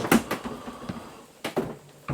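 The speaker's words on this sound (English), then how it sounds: "the fridge doors keep opening up." An RV's fridge doors swing open after heavy rain, giving a few sharp clicks and thumps of latches and door panels spread over two seconds, with quieter rattling between.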